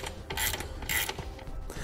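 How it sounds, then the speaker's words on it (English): A ratchet tightening bolts on a RoadMaster RoadWing mud flap bar. It makes quick, close clicking bursts in short repeated strokes, at a fairly quiet level. "it's time to come through and we'll tighten up our bolts here in the middle."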